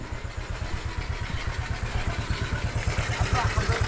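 A motorcycle engine runs with a fast, regular chugging pulse, close and fairly loud, and grows slightly stronger toward the end.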